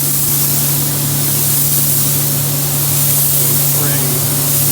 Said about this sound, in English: Spraying against the grain into the grain, so the coverage is better underneath the scale.